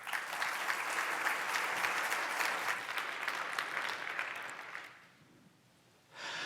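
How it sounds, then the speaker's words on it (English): An audience at a PyCon 2017 conference talk applauds steadily for about five seconds, a dense, even wash of clapping that then fades out, followed by a brief pause and a renewed burst of room noise. "Let's go ahead and give him a round of applause."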